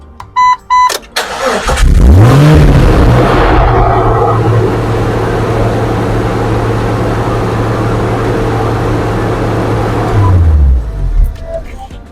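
A Jeep Wrangler TJ engine cranks, catches and settles into a steady idle after a new throttle body install, loud and close, the revs rising briefly at start and dropping off as it shuts down after about eight seconds.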